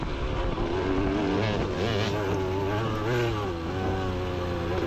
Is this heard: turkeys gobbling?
no